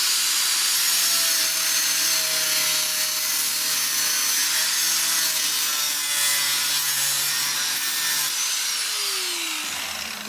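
An angle grinder's cutting disc slices through the wide body kit of a Fox Body Mustang, a loud, steady, high abrasive whine with grinding rasp that holds for about ten seconds before the pitch drops as the cut ends.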